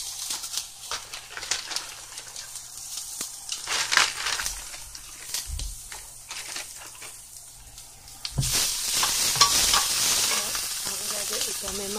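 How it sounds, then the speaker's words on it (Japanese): Daikon leaves and shirasu stir-frying in oil, a steady close sizzle with scraping and crunchy tossing, growing louder and busier in the last few seconds. "油で炒めます"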